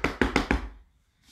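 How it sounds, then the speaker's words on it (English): Four quick, evenly spaced knocks on a door in a bedtime story, close and crisp, followed by silence. "he came to a city and he knocked on the door"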